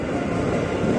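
A KRL commuter train rolls into track 2 at Manggarai with a loud, steady broadband rumble, close and continuous throughout.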